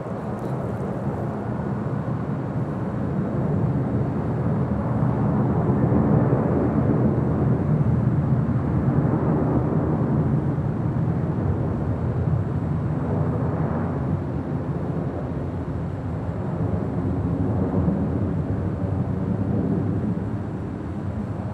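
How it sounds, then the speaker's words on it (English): A Japan Airlines Boeing 787-9 Dreamliner at LAX gives off a steady, broad engine roar that swells gently and fades over about twenty seconds, heard from a distance with no voices. "Japan Airlines Flight 61 heading to Tokyo Narita"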